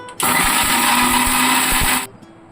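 A mixer grinder whirs loudly as it grinds dry red chillies and salt into a coarse idli powder. The steady, high-pitched roar starts abruptly, holds for about two seconds, then cuts off.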